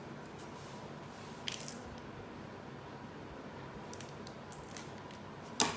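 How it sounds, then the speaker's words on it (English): Quiet snips of scissors cutting, a few brief crisp clicks spaced apart over faint background hiss, with a sharper snip at the end. "Then I will cut from the with the scissors."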